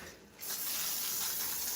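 Cooking spray hisses from a can onto the bottom of a pan before a frozen dough loaf goes in for cinnamon rolls: one continuous, close, bright hiss that starts abruptly and holds steady.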